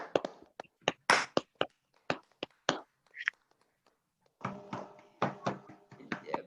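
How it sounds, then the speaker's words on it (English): Applause for a president at a symposium: scattered, sharp hand claps from a small audience, sparse and uneven at first, then a denser burst of clapping toward the end. "can we give once more a warm round of applause to President Itai?"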